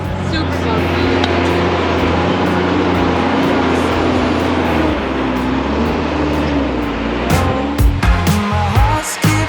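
Unimog truck crawling up a bumpy off-road track in third gear, a steady loud engine drone with rattles and bumps toward the end, under a voice speaking inside the cab.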